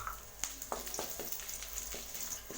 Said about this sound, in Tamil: பாருங்கள், வரமிளகாவும் பொரிஞ்சிருச்சு.